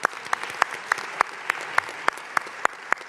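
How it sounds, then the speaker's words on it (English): Audience applause at a mayoral event opening a new recreation center in Flatbush, Brooklyn, with sharp individual claps standing out over a steady bed of hand clapping, fairly close and loud, with no voices. "let's give them applause."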